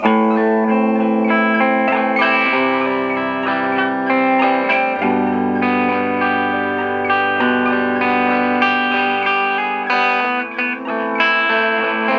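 A double humbucker electric guitar picked softly through an amp with its distortion set so light picking stays fairly clean, sustained chords ringing with a shimmering effects tail, close and alone with no talking.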